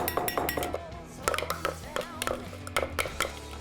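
Chicken stuffing mixture scooped and scraped from a pan into a bowl for bacon-wrapped stuffed chicken, giving quick clinks of utensil on dishware with a few brisk knocks in a busy, close kitchen.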